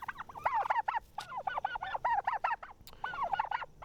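Heritage and bronze-breasted turkeys call in a flock, giving repeated honking, warbling notes in quick bursts, close and fairly clear with little background noise.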